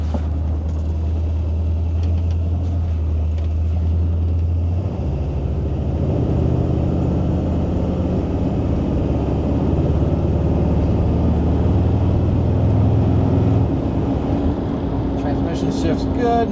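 A 1955 Ford Crown Victoria Skyliner cruises down the road with its windows up, a steady low engine rumble and road noise building as it pulls away, someone talking over the drone throughout.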